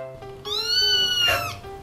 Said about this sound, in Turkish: Bir kedi sesi duydum.